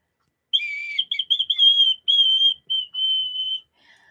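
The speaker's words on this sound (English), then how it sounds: "she showed me that it was a whistle made of horn" A whistle made of bison horn is blown in a series of shrill, high tones, some wavering, others held, close and clear over about three seconds.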